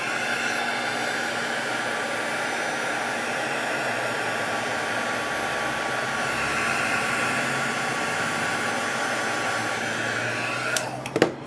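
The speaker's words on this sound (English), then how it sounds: "just take my heat tool, or my heat gun, and melt the Ultra Thick" A heat gun melting ultra thick embossing enamel: a steady, fairly loud blowing hiss runs continuously, ending with a couple of brief clicks as it shuts off.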